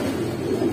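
Giribaz pigeons coo softly in a low, steady murmur at a pigeon shop, a brief continuous burble with no voices over it.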